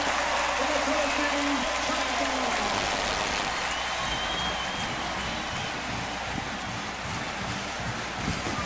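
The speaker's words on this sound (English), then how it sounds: "Tennessee fans still cheering, still in here." A dense, sustained roar comes from Tennessee football fans cheering and applauding in a packed stadium during a 1996 game against UNLV, with a broadcaster talking over the crowd noise.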